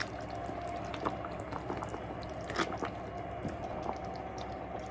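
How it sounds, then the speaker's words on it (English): Chicken rezala curry being stirred in a pan, a thick, wet squelching and bubbling with soft drips and scrapes, continuous and close. "Let's give that a little stir."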